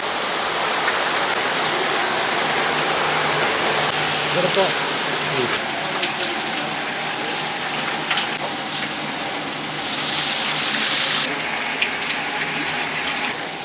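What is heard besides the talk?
rain falling on a shed roof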